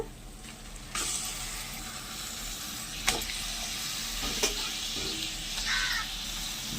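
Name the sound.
washed country chicken added to sizzling onions in pan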